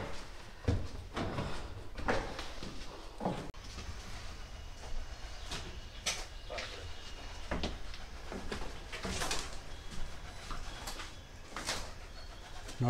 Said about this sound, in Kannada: ನೋಡ್ತಾ ಇದ್ದೀರಾ, ಭಾಳಷ್ಟು ಪಾರಿವಾಳಗಳು ಕೂಡ ಇಲ್ಲಿವೆ.